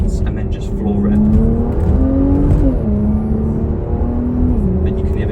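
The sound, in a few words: Porsche Macan 2.9T V6 turbo engine accelerating at full boost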